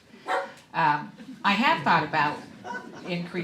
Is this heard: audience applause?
no